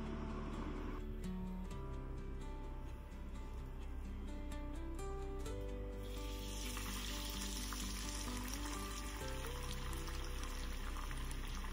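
Cheesy potato chops coated in breadcrumbs deep-fry in oil with a steady, loud, continuous sizzle and bubbling that runs throughout, with faint clinks of utensils over it.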